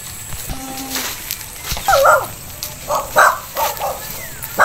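An agitated dog barks at a house visit in the Philippines: a few sharp barks and yelps in separate bursts over steady background noise, fairly close.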